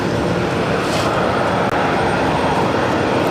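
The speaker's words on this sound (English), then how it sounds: "Another JetBlue A321 up next for arrival on 22 left" A JetBlue Airbus A321 landing on runway 22 left at Boston gives a loud, broad, steady jet roar, close and unbroken for the short stretch.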